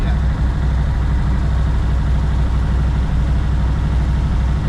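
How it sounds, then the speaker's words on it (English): The engine of a Tri Five car idles loud and close, a constant low rumbling drone that holds steady throughout with no revving. "Well, I'd rather it idle down a little bit."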